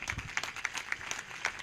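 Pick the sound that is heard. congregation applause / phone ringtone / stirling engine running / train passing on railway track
congregation applause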